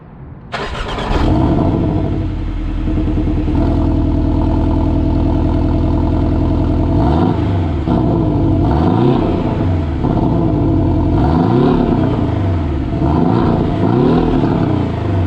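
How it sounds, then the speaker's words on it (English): A 2018 Porsche Cayman fires up with a sharp starter catch and settles into a loud, steady idle heard from outside the car, then gets several rising and falling revs in the second half. No one speaks. "so we'll fire it up here so you can hear it from the outside"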